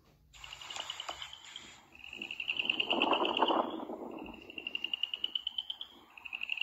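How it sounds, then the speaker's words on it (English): A boreal chorus frog calls outdoors at night in cold 38°F air, giving slow, pulsed rasping trills that repeat in spaced bursts, fairly close and clear over a quiet background. "It's the sound of the chorus frog, the boreal chorus frog."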